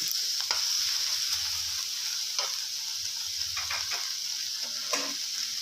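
Steady sizzling of pork being stir-fried with black pepper in a hot pan, with occasional scraping and clinking of a utensil stirring, close and fairly loud, no talking.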